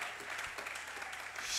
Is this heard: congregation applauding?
yes